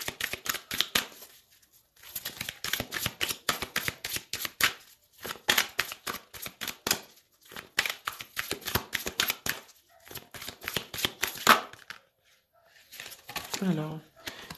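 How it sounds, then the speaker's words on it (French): Tarot cards are shuffled and drawn, with rapid bursts of papery riffling and flicking separated by short pauses, close and fairly quiet, while someone speaks between them. "Alors je vais retirer une ou deux cartes."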